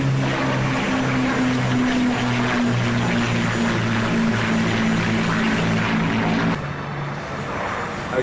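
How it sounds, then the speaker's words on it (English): Avro Lancaster propeller bomber flying over open Canadian scenery, a steady loud multi-engine drone with pulsing low harmonics throughout, easing slightly near the end. "A Canadian Avro flies over typical Canadian scenery."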